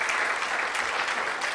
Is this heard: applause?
yes